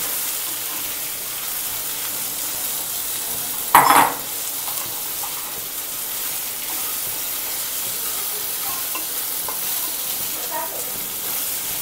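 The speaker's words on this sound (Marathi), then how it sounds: "आणि आता आपण छान भेंडी भाजून घ्यायची आहे." Okra frying in a kadhai, a continuous close sizzle and hiss with one sharp utensil knock early on and faint stirring throughout, no talk.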